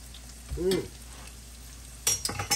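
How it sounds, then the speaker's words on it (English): Swai fish sizzling and frying in olive oil over medium-high heat in a pan, a steady crackle with stirring clatters and a brief tonal squeak early on, close by. "So I got them in the pan. They are frying. They're sizzling."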